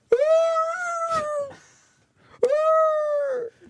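A voice imitates a 1-year-old beagle howling: two long, clear, sustained howls with a brief pause between them, close and fairly loud.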